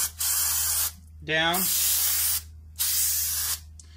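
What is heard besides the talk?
spraying cleaner on Ford Mustang rear brake rotor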